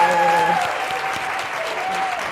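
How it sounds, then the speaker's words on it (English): An audience applauds panelists after a corporate talk on building a championship-level career, a steady, dense round of clapping filling the room, close and loud, with faint voices and tonal hum threaded underneath. "please give my panelists a round of applause"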